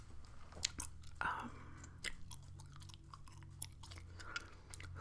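Gum chewing close to the microphone, with soft wet smacks and clicks repeating in an irregular rhythm, plus faint breathy sounds.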